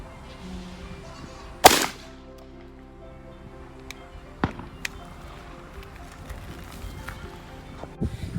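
Single sharp shotgun blast against a steel plate, loud and sudden, followed by softer scattered knocks and clicks in a quiet outdoor setting.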